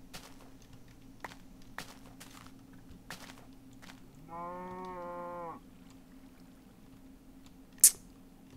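A single drawn-out cow moo from Minecraft, about a second long, stands out clearly over quiet game ambience and scattered soft clicks, with a sharp bright tick near the end.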